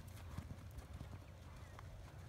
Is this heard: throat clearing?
no